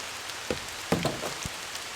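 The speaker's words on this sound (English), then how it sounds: "it's raining and I want my camera out of the rain" Light rain falling outdoors on a homestead near a wheelbarrow and bin, a soft constant patter with a few sharper drip taps on surfaces, no speech.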